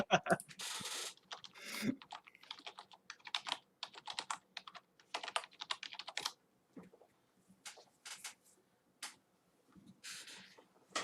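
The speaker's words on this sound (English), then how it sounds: "I will type it out." Irregular bursts of clicking keystrokes on a computer keyboard, typed in quick runs with short pauses, close and fairly clear with occasional light rustling between them.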